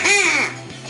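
A handheld duck call is blown on a TV news set, its open end cupped with a thumb, giving one loud, close, falling quack-like note that trails off, then a brief burst at the end.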